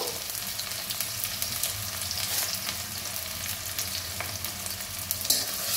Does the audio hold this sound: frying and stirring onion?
yes